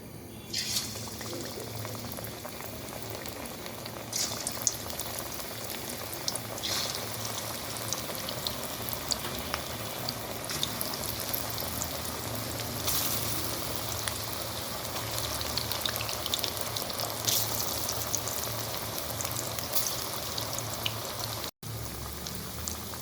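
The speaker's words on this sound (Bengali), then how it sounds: "একটা কড়াইতে আমি খুব ভালো করে তেল গরম করে নিয়েছি। এবার দিয়ে দিচ্ছি পেঁয়াজ।" Onion fritters frying in well-heated oil in a wok give a continuous dense crackle and bubbling sizzle at moderate volume, steady throughout, with no voices.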